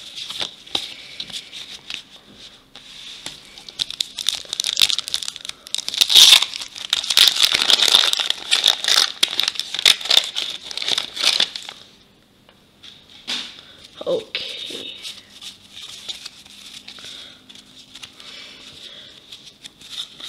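Foil wrappers on 1989 Topps baseball card packs crinkle and crackle in bursts close up, busiest in the middle, then thinning to lighter handling sounds near the end.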